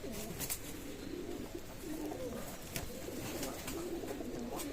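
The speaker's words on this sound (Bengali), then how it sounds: "চমৎকার রানিং পেয়ার কাশুরি কবুতার" A pair of Kashuri pigeons coos softly and steadily, low rolling calls repeating under a constant bed of background noise.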